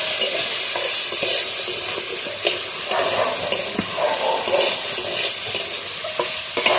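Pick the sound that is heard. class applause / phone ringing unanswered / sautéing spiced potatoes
sautéing spiced potatoes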